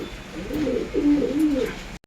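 Racing pigeons coo in low, throaty rolling phrases, close and fairly loud, several soft bursts running together over about two seconds with no talking.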